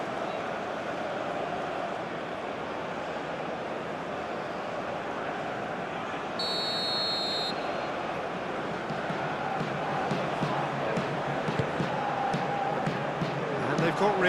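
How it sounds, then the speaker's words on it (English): A stadium crowd at an Indonesia versus Singapore football match, roaring steadily in a dense, continuous wash, with a commentator talking over it. "it certainly got the crowd going"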